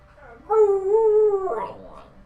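A dog in the video game The Elder Scrolls Online lets out a single drawn-out whimpering whine lasting about a second, close and clear, trailing into a brief softer, breathier sound.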